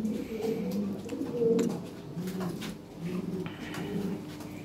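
Lahore Siraji pigeons coo repeatedly in soft, low, rolling phrases, close by and overlapping, in a loft of birds kept for sale.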